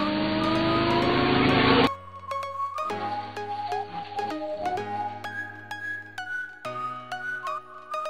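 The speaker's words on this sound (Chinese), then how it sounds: "突然，一辆汽车正面驶来" A cartoon car driving head-on, a loud engine roar up front that cuts off abruptly and gives way to lighter tonal music-like sounds.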